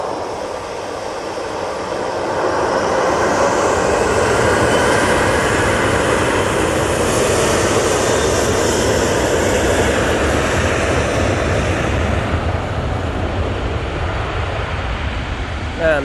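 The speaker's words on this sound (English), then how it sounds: "next arrival is the TUI from Belfast. Just turning on to final now." Airliner landing at Manchester Airport, a loud, sustained engine roar that swells after the first couple of seconds and holds steady for a long stretch, with faint speech underneath.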